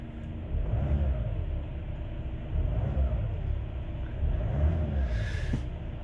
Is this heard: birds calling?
no